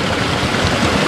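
Steady broadband rush of clear mountain stream water flowing beside a temple in the Corbett and Nainital forest area, continuous and fairly loud with no voices over it.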